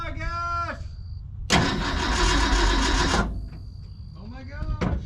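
A 1970 Ford F250 engine cranks over with the ignition in one steady burst of roughly two seconds, loud and close, with a voice speaking before and after it.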